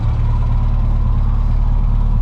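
A 1967 Austin Mini engine idling with its exhaust burbling, a steady, close, low rumble with a regular throb and no talk over it.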